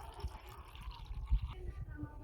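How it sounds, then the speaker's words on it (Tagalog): Water gurgles and splashes close up as it is poured into a pot holding gulaman mix for a homemade no-oven cake, a low, burbling stream lasting about two seconds. "Ayan, lagyan natin ng tubig."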